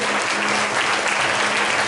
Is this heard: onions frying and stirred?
no